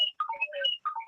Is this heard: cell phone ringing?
yes